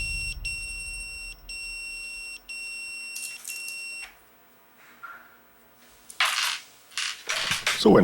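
Repeated high electronic beeps in bursts of several tones, followed by scattered noisy rustles and clatter.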